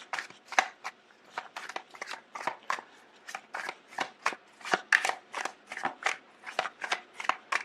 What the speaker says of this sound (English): Let me see the other cards that are coming through.